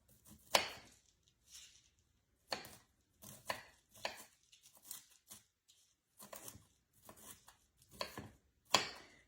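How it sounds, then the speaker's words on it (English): A knife chops hard vegetable stems into small pieces on a cutting board, about a dozen crisp, irregular strikes that come close and clear, with quiet gaps between the bursts. "Just cutting a lot of that hard stem off of there."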